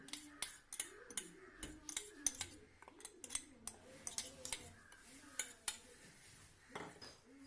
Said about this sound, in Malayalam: ഒരു സ്പൂൺ ഉപയോഗിച്ച് ഇളക്കി കൊടുത്തു കഴിഞ്ഞാൽ നമുക്ക് ചാറ് പെട്ടെന്ന് തന്നെ എടുക്കാൻ സാധിക്കുന്നതാണ്